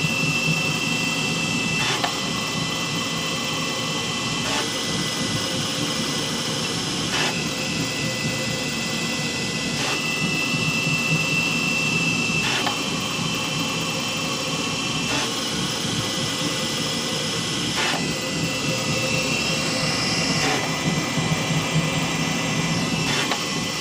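A 3D printer runs a fast skew calibration print at about 300 mm/s with 15,000 acceleration, giving a steady, loud mechanical whir and hum with repeating motion sweeps and no talking.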